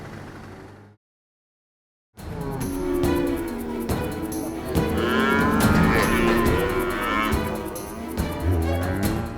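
Cattle moo loudly and repeatedly on an Australian outback farm, several overlapping calls close by, following a brief silent gap at the start.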